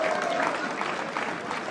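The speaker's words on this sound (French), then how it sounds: "on peut les encourager, les applaudir" Quiet applause from spectators at an amateur boxing bout, a soft steady patter of clapping heard at a distance for a couple of seconds.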